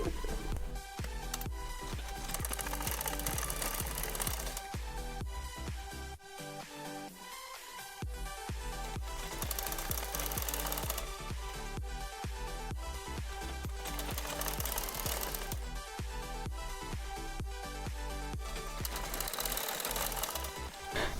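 Sewing machine stitching the fitting seam of a girl's umbrella frock, running in steady rapid bursts with short pauses between passes, close and alone with no voices.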